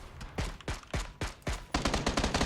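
Gunfire rings out in a video game shootout: five separate sharp shots spaced roughly evenly, then a quick burst of rapid fire, loud and close with no talk.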